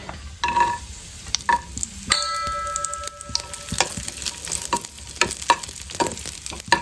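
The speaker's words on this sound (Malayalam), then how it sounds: "നമുക്കിനി അടുത്തത് ഉണക്കമുന്തിരിയാണ് അതും കൂടി ഇട്ട് കൊടുക്കാം" Raisins frying in hot fat in a pan for a green gram dal payasam, crackling and sizzling with intermittent stirring scrapes and clicks, close and without talk.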